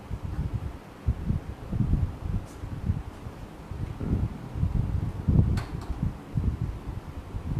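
Side electric fan running steadily indoors, a low broadband whir and rustle that rises and falls slightly, with a few faint knocks, no one talking.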